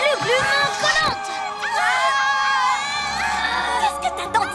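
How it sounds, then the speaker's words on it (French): Animated cartoon characters howling and shouting together, a loud burst of overlapping high-pitched voices and yells that rises and falls in waves before trailing off. "Qu'est-ce que t'attends, Pilou? Viens hurler avec nous"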